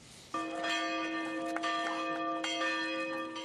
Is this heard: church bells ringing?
yes